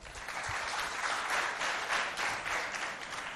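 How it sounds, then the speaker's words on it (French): Steady applause from a group of schoolchildren, fairly loud and continuous, at a school event in Mao, with no talk over it. "Applaudissez pour vous d'abord."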